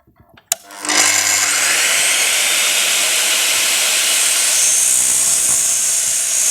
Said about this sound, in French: on va prendre une pièce de bois et on va faire une coupe dedans